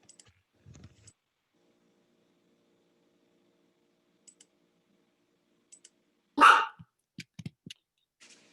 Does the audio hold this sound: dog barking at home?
yes